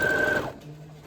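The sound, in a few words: sewing machine stitching fabric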